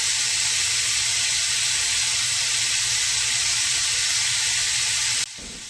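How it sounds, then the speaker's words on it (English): Chicken thighs searing flesh side down in a pan for cacciatore, a steady close hiss and sizzle with a low hum beneath, cutting off abruptly just before the end. "I'm gonna flip it over to the fleshy side, and I'm gonna also let that sear for an additional 4 minutes"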